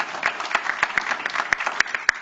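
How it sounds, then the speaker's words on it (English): Audience applause at a school board meeting honoring AP scholars, steady overlapping hand claps from a room of people with a few sharper nearby claps standing out, continuing for the full stretch without speech. "another big round of applause"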